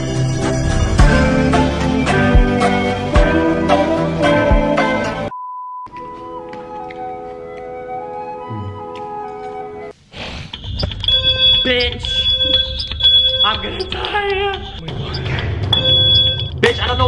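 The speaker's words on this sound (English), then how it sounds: "It's a damn fire alarm." A smoke detector or fire alarm sounds indoors with repeated electronic tones, heard among loud music-like noise and people talking and shouting.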